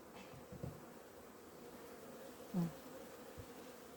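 A faint, steady hum of honey bees buzzing around an apiary hive in autumn, with one bee droning briefly closer partway through.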